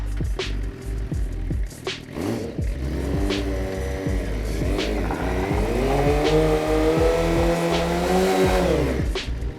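A motorcycle doing a rolling burnout roars loudly and steadily throughout, its engine pitch wavering and climbing over a harsh, continuous hiss of tire scrub.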